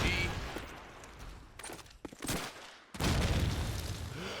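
Grenade blast and bursts of gunfire in a competitive video game match at a LAN event, sharp booming hits with a loud surge near the end, mixed under crowd and commentary noise.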